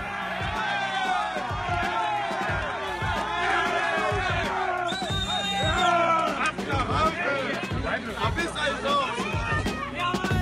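Hostile protest crowd near Dresde shouting and cheering, loud overlapping yells and whoops in rhythmic bursts, a dense, close mass of voices.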